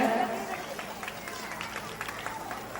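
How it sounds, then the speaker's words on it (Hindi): An audience claps loudly for a teacher at a school's grand annual function, a dense, steady patter of applause that stays even across the whole moment. "प्रतिमा मैम के लिए भी जोरदार तालियां बजाई जाए।"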